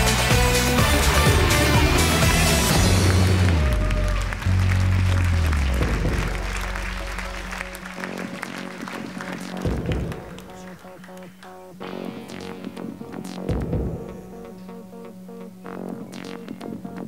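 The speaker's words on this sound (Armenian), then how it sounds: "ավելի բարձր ծափահարենք" A TV talent show audience applauds in a dense, loud burst that fades after a few seconds, then gives way to quieter music and a voice talking.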